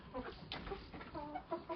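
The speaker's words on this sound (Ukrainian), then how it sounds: "Бачите, друзі, які чемні у мене півні?" Roosters clucking softly at close range in a farmyard, a loose run of short throaty clucks and murmurs with no speech.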